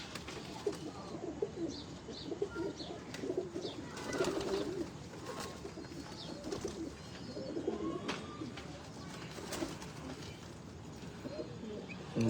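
Pigeons of a rare breeder strain coo steadily in a loft in Faisalabad, soft repeated low calls layered with occasional chirps and bird chatter, moderately close and continuous throughout.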